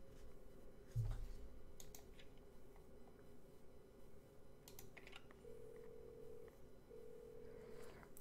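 A phone call rings out in the Do Not Feed the Monkeys video game as two faint, steady ringback tones late in the sequence, heard through low background hiss with a few scattered clicks and no talking.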